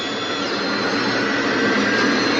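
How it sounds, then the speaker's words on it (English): A steady, loud airplane engine roar fills the cabin in flight, a constant broadband drone that swells slightly toward the end, with no voices. "this plane handles very well, doesn't it?"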